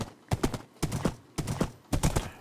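Hooves of a horse in the video game Minecraft clip-clop in four quick, evenly spaced bursts of two or three crisp knocks each, close and clear with no voices.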